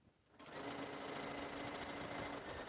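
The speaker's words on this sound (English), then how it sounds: "And I'm just stitching a 1/4 inch seam" A sewing machine stitches a quarter-inch seam through two layers of quilt batting for a lined stocking, starting after a brief pause and then running as a steady, close, continuous whir for over two seconds.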